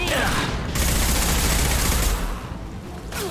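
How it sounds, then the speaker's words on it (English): Dense gunfire from a firefight in Mass Effect 2 against Blood Pack mercenaries, a loud sustained roar of rapid shots and impacts that fills the whole stretch with no pauses. "Oh, gunfight."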